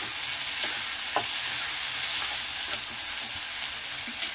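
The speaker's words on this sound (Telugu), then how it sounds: "ఇప్పుడు మనం ఇందులో కడిగి పెట్టిన ఈ చిన్న కాకరకాయలు వేద్దాము. కలుపుదామండి." Small bitter gourds frying and being stirred in a pan with browned onion, giving a dense, continuous sizzle with occasional soft scrapes and taps of the spoon, close and steady throughout.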